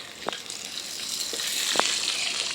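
Fish frying in a pan for a Bhogali Bihu feast in Assam, a steady soft sizzle running throughout with a few brief sharper crackles and pops, no voices.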